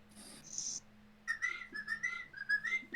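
A person whistles during a microphone check, a short tonal phrase of several quick rising and falling notes, close and clear against a quiet background hum.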